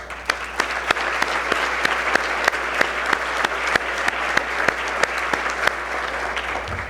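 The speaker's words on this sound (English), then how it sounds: "I really want to give you a round of applause" A crowd at a university athletics Hall of Fame ceremony gives sustained applause, dense and even clapping with a few sharp standout claps, lasting the whole stretch without talk.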